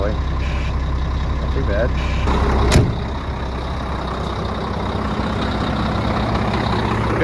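A 6.0 Powerstroke diesel truck engine idles with a steady low rumble while building air pressure, with a brief hiss partway through and a person speaking briefly over it.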